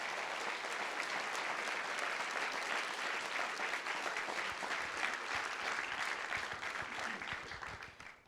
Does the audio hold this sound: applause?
yes